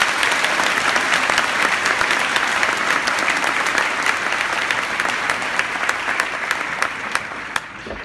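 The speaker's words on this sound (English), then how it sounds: "Round of applause." Loud, dense applause from a live cooking show audience in a Seattle venue, sustained clapping filling the hall and tapering slightly near the end.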